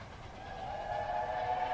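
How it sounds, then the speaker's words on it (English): A train passing in the spaghetti western Once Upon a Time in the West: a steady, building rumble of rail noise with a sustained whistle-like tone rising in loudness toward the end, heard without talk. "Train. Train."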